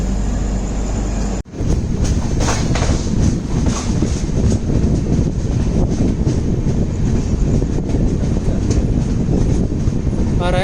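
The Konkan Kanya Express on the Konkan Railway roars past close by, a dense, continuous rumble of wheels and carriages with faint rhythmic clatter, heard from a moving train, with a brief sharp cut near the start.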